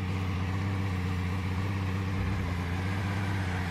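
Two cars in the video game DayZ drive by, a steady loud low engine drone that stays constant and rumbles slightly deeper partway through, with no talk.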